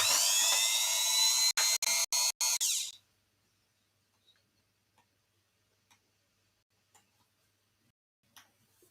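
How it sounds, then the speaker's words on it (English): A drilling machine runs loudly and steadily for a few seconds, cutting out in a quick series of brief stutters before stopping, followed by faint scattered ticks and clicks in near silence. "What I'm gonna do is I'm gonna start the this drilling machine."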